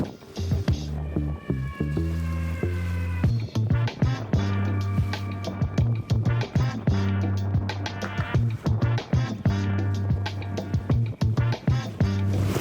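The Viking Boats amusement ride runs nearby, with a steady low mechanical hum, rhythmic clunks and rattles, and squeaky tonal whines over the machinery.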